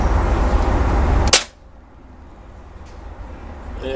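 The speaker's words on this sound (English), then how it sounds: "I'll take another shot." A Beeman 1357 air pistol fires one sharp, loud crack about a third of the way in, cutting off a steady background rush and leaving a quieter hiss afterward.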